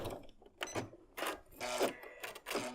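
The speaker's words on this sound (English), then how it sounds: "we're going to sew to that center seam, line the end up again, and continue on down" A sewing machine stitches a quilt block seam in short uneven bursts of mechanical whirring and clicking, close and fairly quiet, with brief stops between runs.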